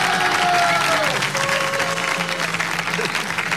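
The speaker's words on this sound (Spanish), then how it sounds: "Un aplauso para Pablo Iglesias" Studio audience applauding a guest introduced as Pablo Iglesias, secretary general of Podemos, at a comedy show: dense, steady clapping filling the room, with cheers and voices mixed in throughout.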